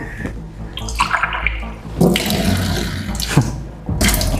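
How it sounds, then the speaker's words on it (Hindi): Drinking water is poured into a glass and spills over, making an uneven, splashy gush of water that surges and dips close up. "पानी भी छलक रहा है।"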